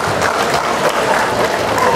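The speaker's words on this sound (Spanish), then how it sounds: "Fuertes los aplausos para el presidente." A crowd at an outdoor award ceremony for a village patron saint festival with sports, ranchers and riders applauds in a dense, sustained burst of clapping with some background voices.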